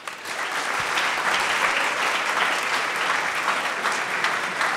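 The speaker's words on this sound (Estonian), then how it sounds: "nii et teeme neile suure aplausi." Audience at a school playback show in Estonia applauding, a dense, steady wash of clapping from many hands that holds at an even level for the whole stretch with no voices rising above it.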